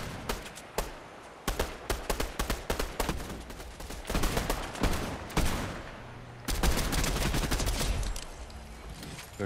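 Gunfire in an online shooter video game: rapid bursts of shots and sustained automatic fire, loud and dense, crackling in repeated volleys across the whole stretch.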